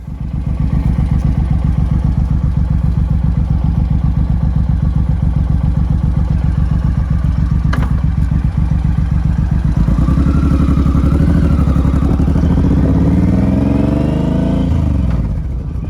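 A modified touring motorcycle rumbles loud and close with a steady rapid engine pulse, then revs up and pulls away near the end as the pitch climbs.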